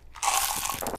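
Loud crunchy chewing of gum, a single dense burst of close mouth sounds lasting under a second with no talking.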